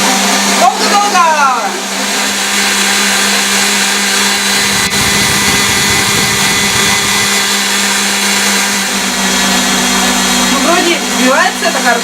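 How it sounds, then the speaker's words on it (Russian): An electric mixer whips chocolate cake batter in a bowl, running as a loud, steady whirring drone that holds for the whole stretch with little change in pitch. "И взбиваем. Хорошо прям взбиваем. Долго-долго."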